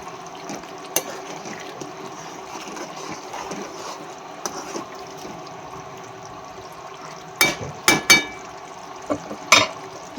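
Spicy prawn and potato gravy simmers in a pan while a spoon stirs it, giving a low steady bubbling hiss and a few sharp scrapes and clinks against the pan near the end.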